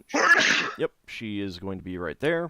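A single loud, sharp sneeze bursts out close to the microphone at a tabletop AD&D Spelljammer role-playing session, immediately followed by people talking.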